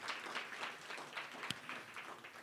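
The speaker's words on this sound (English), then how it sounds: "A round of applause for Mr." Faint, distant applause from an audience at a blockchain thought-leadership media event, greeting an ePharma tech lead: a steady wash of many hands clapping without a break.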